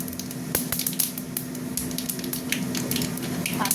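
Panch phoron spices crackle and sizzle in hot oil, a close, even frying hiss with scattered sharp pops, no speech.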